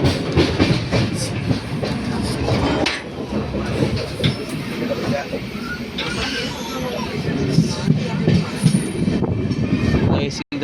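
Riding aboard the 16342 Thiruvananthapuram–Guruvayur Intercity Express on its first LHB-coach run, a continuous loud rumble of wheels on rails comes with clickety-clack beats and occasional squeals, close and unbroken.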